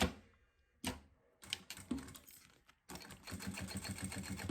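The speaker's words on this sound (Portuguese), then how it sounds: "Nós vamos virar desse lado aqui e vamos passar uma costurinha de segurança" A sewing machine runs a safety stitch along a synthetic faux-leather women's wallet at stitch setting 5, in several short, close bursts with brief pauses between them.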